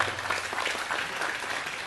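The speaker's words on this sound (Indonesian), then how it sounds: "Nah, tepuk tangan, tepuk tangan." Brief, fairly faint applause from an audience at a public discussion gathering, an even wash of clapping with no voices heard.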